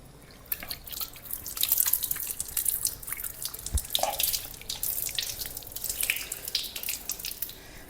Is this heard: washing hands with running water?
yes